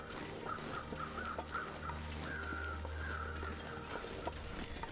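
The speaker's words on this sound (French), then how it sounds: "J'entends les corbeaux." Crows caw in The Long Dark survival game, harsh calls repeating steadily over a constant low wind drone in a snowy wilderness setting, moderately distant.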